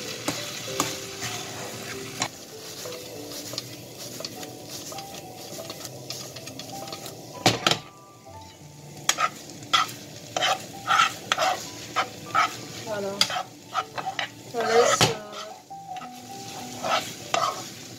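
Rice vermicelli with leftover chicken is stirred in a hot pan, a spoon scraping and tapping the metal in irregular clicks over a steady low sizzle, close up and without any talking.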